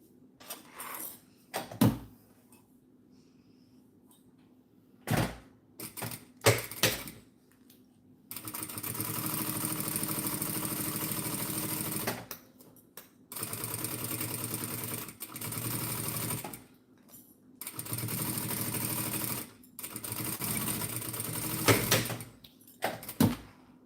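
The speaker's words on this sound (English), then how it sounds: "I'm stitching at 1/8 of an inch. So just 1/8 of an inch from the pink." A sewing machine stitches clear vinyl an eighth of an inch from a pink edge. After a few scattered clicks, it runs in three steady bursts of several seconds each, close and fairly loud, with brief pauses between.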